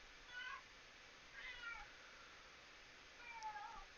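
A cat in a fantasy adventure game makes three quiet meows spaced about a second apart, each a thin, wavering cry over constant background hiss.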